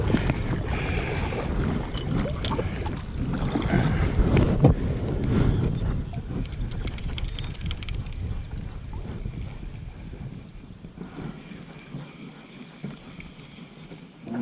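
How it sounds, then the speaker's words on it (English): Steady wind gusts across a lake during early-spring bass fishing, a broad rushing noise that is strongest through the first half and then eases off, with a few brief knocks from the boat. "Wind's blowing a little bit."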